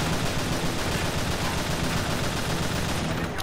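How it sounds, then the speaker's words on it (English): Dense, continuous gunfire from the video game Battlefield 2, loud sustained bursts of automatic weapons with no pauses, dominating the scene. "ride it down with gunfire"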